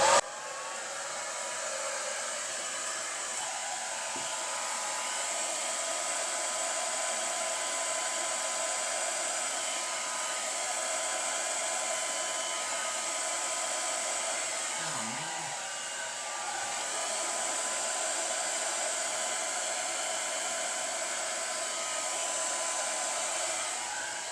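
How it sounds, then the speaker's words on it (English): A blow dryer runs continuously on wet acrylic pour paint, a steady, even whirring rush of air from start to finish. "Get the blow dryer."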